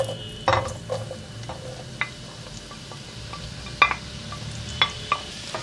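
About 300 grams of chopped mushrooms sizzle and fry in oil in a pan with a soft steady crackle, broken by occasional clinks and scrapes of a utensil stirring.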